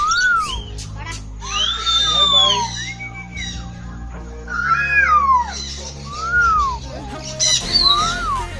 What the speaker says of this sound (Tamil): நம்ம விசில் அடித்தோன்னே அதுவும் டிஃப்ரெண்ட்டாக விசில் அடிக்குது பாருங்கள்